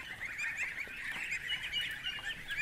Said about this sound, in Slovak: Tieto kačky prišli pozrieť bližšie.